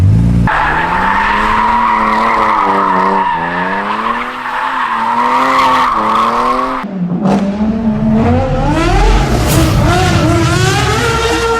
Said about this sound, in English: Will it do a burnout? It'll do a burnout.